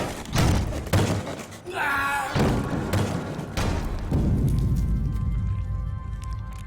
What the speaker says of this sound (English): The hammer, weighing over 100 kilograms, slams against the wedge to create a huge pressure in the chamber and crush the pulp.